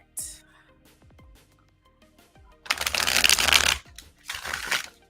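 Tarot cards are riffled and shuffled in two quick, crisp bursts, close by, after a few light taps and handling sounds.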